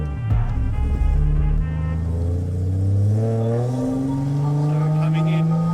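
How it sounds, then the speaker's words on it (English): A drift car entering a corner, the engine rising in pitch under a throttle blip and clutch kick as the rear wheels spin up, loud and close with a sustained rising drone. "giving the throttle a bit of a blip and stabbing the clutch to spin those back wheels up as you sort of turn in"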